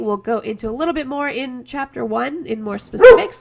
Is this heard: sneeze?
no